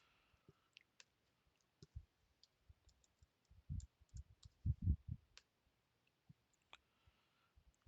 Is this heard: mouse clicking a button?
yes